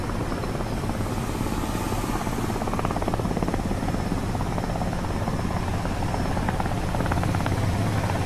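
A helicopter flies nearby, its rotor giving a loud, steady chopping thrum with a continuous engine whine that stays strong throughout.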